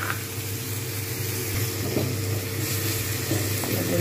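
Ginger garlic paste sizzling and frying in a hot pan of oil for a prawn and spinach ghonto, a steady close hiss with light crackles and a few stirring scrapes, no talk.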